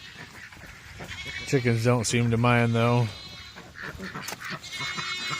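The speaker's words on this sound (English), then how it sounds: "As you can hear my goats whining in the background." Goats bleat on a rainy, muddy farm near a chicken coop: loud, wavering cries in the middle with fainter calls at the end, and a person speaking over them at times.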